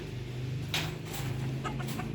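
A young stray hen kept among rescued animals clucks in short bursts over a steady low background hum, close and fairly quiet.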